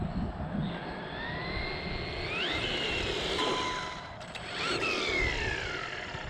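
A Hosim X08 RC truck's electric motor running at full speed on a 2S battery, a steady high whine with rising and falling pitch sweeps as it accelerates away and back, fairly loud against outdoor background noise.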